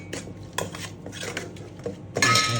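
Cutlery scrapes and clinks against a bowl as Egyptian salad dressed with plain and apple vinegar is stirred, giving several quick irregular clatters close up, with a louder rattling burst at the end and no talking.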